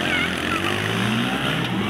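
A car revs and accelerates at an outdoor car meet at Praça da Espanha in Curitiba. The engine makes a loud, steady, close-up drone with a slowly rising tone.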